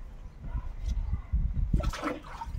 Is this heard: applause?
no